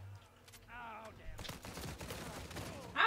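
Gunfire in an Uncharted 4 multiplayer match, a dense run of rapid shots and impacts filling most of the moment, with a voice briefly talking beforehand and a sharp burst at the end.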